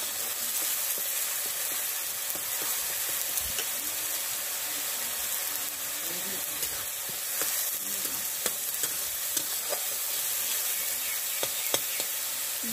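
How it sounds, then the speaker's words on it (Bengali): Onions frying in a pan while chicken is being cooked: a steady broadband sizzle runs throughout, with occasional sharp stirring scrapes and small crackles standing out on top, and no talking. "দু মিনিট আমি পেঁয়াজ ভেজে নেব।"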